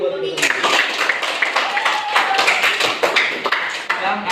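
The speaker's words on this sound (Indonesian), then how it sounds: "Tepuk tangan buat teman-teman" Classmates in a school classroom clap for each other, a dense, steady patter of many hands running throughout, mixed with children's voices and chatter.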